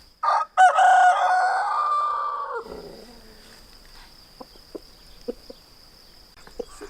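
A rooster crows loudly up close, then a few short, scattered clucks from chickens follow over quiet background on an off-grid homestead in Portugal.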